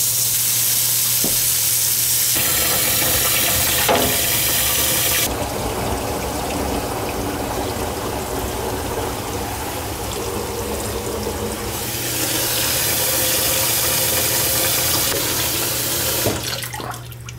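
Water draining slowly from a filled container, a loud continuous rushing and gurgling flow close by that shifts in intensity and eases near the end.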